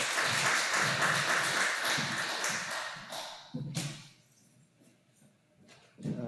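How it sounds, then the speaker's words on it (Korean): A church congregation at an afternoon worship service claps together, a full burst of applause that fades after a few seconds into quiet, with a short renewed clatter near the end. "우리 하나님께 영광의 박수 올리겠습니다."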